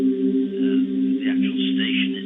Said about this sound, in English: what you're hearing is a recent transmission that was captured on one of those web SDRs